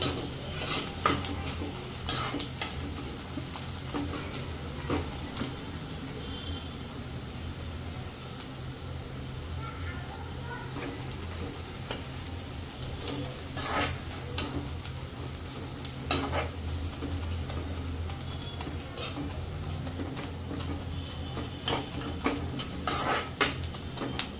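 Onions fry gently in a pan on low heat, giving a soft continuous sizzle broken by frequent clinks and scrapes of a spoon stirring against the metal, close and fairly quiet, with no voices.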